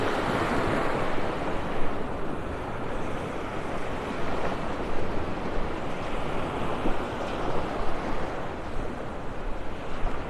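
Surf breaks steadily on Vanderbilt Beach in North Naples at low tide, heard from a sand spit on a chilly morning, with a continuous wash of waves and wind buffeting the microphone throughout.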